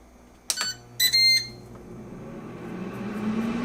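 An air fryer gives two short electronic beeps as its timer is set, the second a little longer, followed by its fan whirring up into a low, steady hum.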